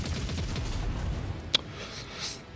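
Heavy Bolter fire in the video game Rogue Trader, with a rumble of low bursts early on and then a single sharp, loud shot cracking out before a fading tail.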